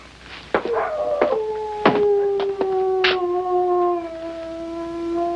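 A dog tied up behind a tent area howls, a long wavering near cry with a few sharp knocks and bumps around it; no one speaks.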